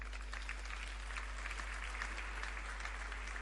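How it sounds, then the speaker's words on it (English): An audience at a convocation ceremony claps for graduates, giving sustained, even applause over a low steady hum. "Please clap for your friends."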